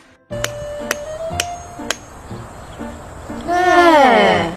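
A hammer strikes a chopstick stuck in a potato: three sharp, ringing taps about half a second apart, then a softer knock, followed by an excited voice rising and falling over the end.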